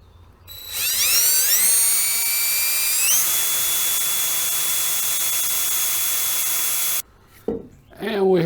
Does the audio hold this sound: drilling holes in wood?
yes